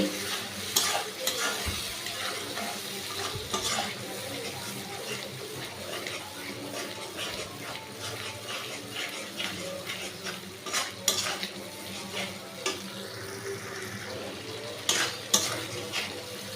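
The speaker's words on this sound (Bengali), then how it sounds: "এবার টমেটমের কাঁচা গন্ধটা যাওয়া অবধি আমি তাকে ভালো করে করতে নেব" Tomato paste fries in a pan for restaurant-style chicken korma, a continuous soft sizzle broken by repeated scraping and clinking stirs of a spatula, up close with no talking.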